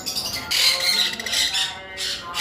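Loud, harsh squawks from caged birds at a bird farm selling pairs, likely lovebirds, come in repeated bursts close by, with no talking.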